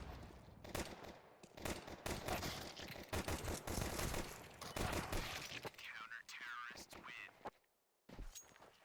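Faint, rapid bursts of gunfire crackle in a professional Counter-Strike match between FaZe and NRG at the Starladder Budapest Major 2025, with clustered shots and quieter gaps and muffled voices underneath.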